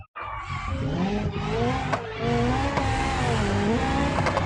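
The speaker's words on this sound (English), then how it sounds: "Big old V8 American barge versus tiny Japanese hatchback." Rallycross video game race between a big old V8 American car and a tiny Japanese hatchback: a loud, continuous engine roar with rising and falling revs and tire squeal through corners, close and steady throughout.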